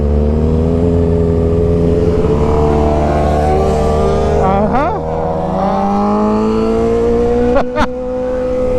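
A 750 motorcycle engine revs steadily and loudly with rising and falling pitch sweeps, close by, as people talk over it.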